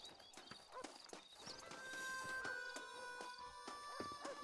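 Hooves clip-clop in a steady, close rhythm from a horse in the western video game Red Dead Redemption, with a faint neigh mixed in and quiet game ambience underneath.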